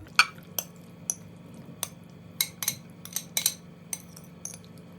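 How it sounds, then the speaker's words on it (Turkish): A yogurt, carrot and purslane salad is moved onto a serving plate, with a utensil making a scattered series of sharp, light clinks and taps against the dish in a quiet kitchen. "Salatayı servis tabağına aktarıyorum."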